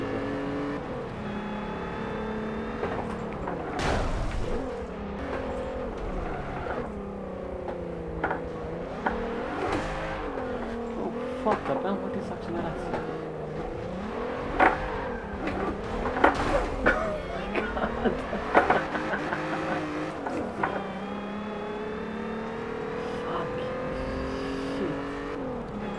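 Mercedes-Benz C32 AMG engine revving hard through a continuous run, pitch climbing and dropping repeatedly as gears change, loud and close with brief sharper peaks and some talk underneath.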